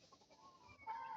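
Roundhead gamefowl rooster clucking faintly at a distance, soft low calls scattered across a quiet farmyard, with a brighter, slightly louder vocal near the end.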